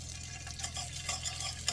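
Garlic sizzles in hot oil in a pan, a soft, steady crackling hiss close by with faint stirring scrapes, quiet and alone.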